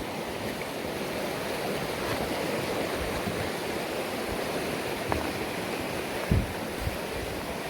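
The river Gelt, flowing down from the fells, gives a steady broadband rush of moving water with a faint knock or two near the end. It is moderately quiet, with no talking.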